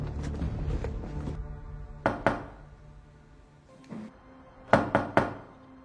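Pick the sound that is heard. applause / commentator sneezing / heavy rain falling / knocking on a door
knocking on a door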